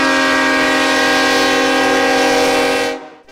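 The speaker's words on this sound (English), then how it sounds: "The journey of Bush's flag-draped coffin through Navasota by train is a rare event" A train carrying George H.W. Bush's flag-draped coffin sounds a long, loud, steady horn blast as it passes through Navasota, Texas; the horn holds for about three seconds and then cuts off abruptly.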